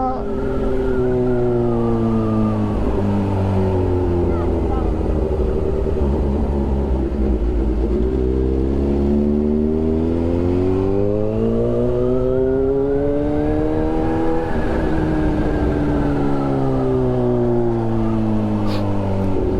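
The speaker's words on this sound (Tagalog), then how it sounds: "Too many sasakyan naman over here." Heavy road traffic with many cars, a loud continuous engine drone whose pitch rises and falls as vehicles pass and accelerate close by, steady throughout.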